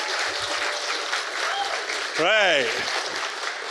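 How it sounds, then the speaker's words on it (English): A large audience at an industry-day expo claps steadily for the students, a dense even patter throughout, with a brief spoken word and a rising whistle-like tone partway through. "just because I like to see you all clap hands, can you also just thank all the students"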